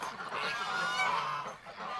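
Ducks calling outdoors on a sunny morning at a backyard poultry spot, a continuous chorus of nasal honking quacks from several birds, fairly close and steady throughout.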